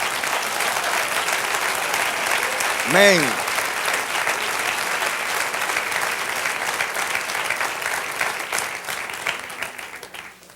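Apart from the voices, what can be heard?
congregation applauding in church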